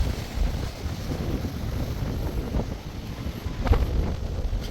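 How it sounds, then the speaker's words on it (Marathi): Cold wind blows at a seashore fort, a steady low rumble of gusts buffeting the microphone with faint surf in the background and no talking. "खूप छान थंड, खूप थंड आणि थंड वारा येत आहे."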